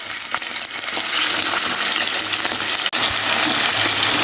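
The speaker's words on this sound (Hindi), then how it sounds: "तो अभी हम चिकन को फ्राई कर लेते हैं थोड़ी देर, तो कलर चेंज हो जाए।" Chicken pieces frying in ghee in a karahi on a stove over medium heat, a dense continuous sizzle heard up close, with occasional stirring clinks and no talking.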